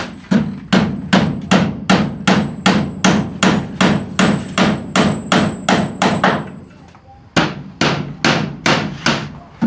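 Hammer blows drive a nail into wood while a door is fitted at a house, loud, close and evenly spaced in a long run of about twenty strikes, with a brief pause before the hammering resumes.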